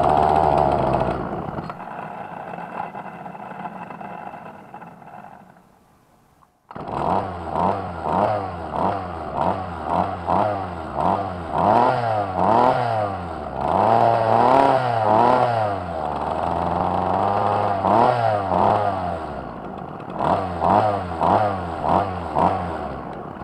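A Craftsman/Ryobi string trimmer-edger with a Walbro carburetor, freshly cleaned, runs nearby after a brief quiet pause. The small two-stroke engine revs up and down in rhythmic bursts, loud and close.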